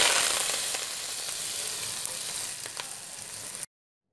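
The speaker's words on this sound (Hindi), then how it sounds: "ज़ीरे को आपने इसमें 30 सेकंड के लिए फ्राई कर लेंगे।" Cumin seeds fry in hot oil for a white black-eyed bean curry, a close, steady sizzle with faint pops and crackles throughout before it cuts off abruptly.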